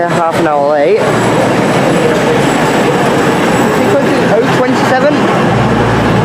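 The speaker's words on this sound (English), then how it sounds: "The next train to arrive." A train pulls into a station, its steady rumble and wheel noise filling the scene, with brief squeals and rising whines early on, loud and close, as people talk over it.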